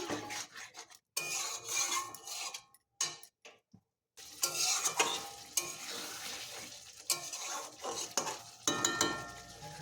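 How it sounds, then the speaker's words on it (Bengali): Ginger and cumin paste being sautéed in a pan for a vegetarian dish with no onion or garlic: spatula scrapes and stirring over a soft sizzle, broken by several short pauses, close and fairly loud. "আবারও কিছুক্ষণ ভালো করে কষিয়ে নেব"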